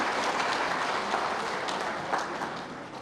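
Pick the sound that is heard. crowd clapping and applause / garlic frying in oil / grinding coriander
crowd clapping and applause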